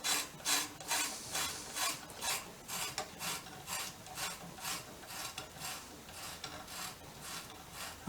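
Paint-coated threads on a fork-clamp bolt of a 1959 BSA C15T motorcycle grind and rasp as the bolt is turned out, in close, rhythmic scraping strokes of steady moderate loudness with no talking.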